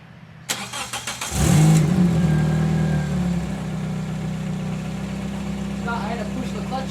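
A wrecked Toyota Corolla with a manual gearbox cranks briefly and catches, then its engine settles into a loud, steady, rough idle with a blatty exhaust that needs muffler work, heard up close after a few light clicks.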